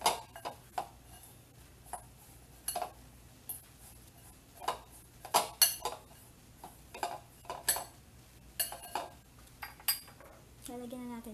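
Spoon clinks and scrapes against a bowl while jicama is tossed with sugar, sharp irregular taps and clatter, close and quiet, with a short soft rustle at the end.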